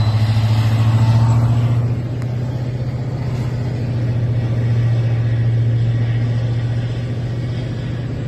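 Big farm engines rumble steadily and loudly at close range, a deep low drone with a brief surge near the start before settling into a constant idle-like throb.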